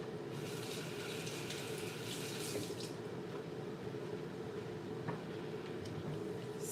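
Water runs steadily from a tap while dry fish is rinsed beneath it, producing a continuous moderate splashing hiss with small irregular sloshes and no voices.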